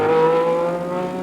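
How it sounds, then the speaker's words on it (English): Ferrari 512 race car in Penske Sunoco colours at a historic Grand Prix meeting at Montlhéry, engine holding a steady, loud high-pitched note with a strong harmonic whine through the short burst. "Absolutely glorious 512 Ferrari."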